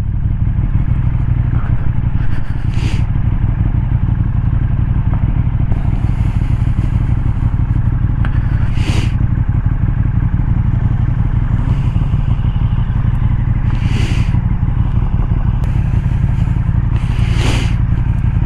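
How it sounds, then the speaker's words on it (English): Bikers' motorcycles idling at a pub beer garden, a loud continuous low engine rumble with occasional brief higher revs and clatter, close and steady throughout, no talking. "a couple of bikers here already, look"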